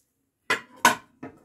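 Metal kawali cooking pans with lids, salvaged from a trash heap, clank three times in close succession, loud and sharp with a short ringing decay and no talk.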